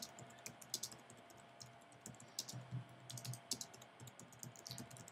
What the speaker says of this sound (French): je vais taper son adresse exacte